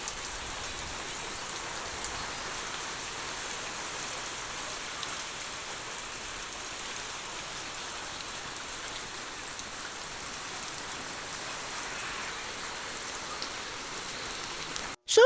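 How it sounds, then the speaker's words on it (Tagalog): Steady heavy rain pouring down, a dense continuous hiss of drops on surfaces with no voices, ending with a brief bump at the close. "malakas ang ulan."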